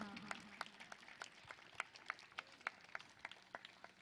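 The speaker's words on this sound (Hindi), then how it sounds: "तालील बजाओ।" An audience at a live Ramcharitmanas recitation gathering in a village claps in scattered, rhythmic bursts, sharp individual claps standing out over a faint, distant crowd background.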